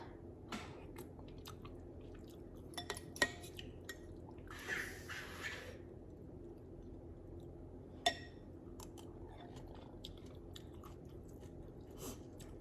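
Someone eating a bowl of spicy homemade tom yum noodles, with faint close-up chewing, slurping and bites scattered over a quiet background.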